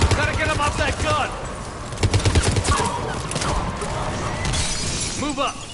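A mounted gun in the Mass Effect video game fires rapid staccato bursts during a firefight, with shattering impacts and other battle noise. Voices talk over the shooting.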